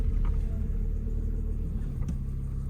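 Steady low engine rumble and road noise from inside a car cruising during a driving lesson, a continuous close drone with a faint knock near the end and no talking.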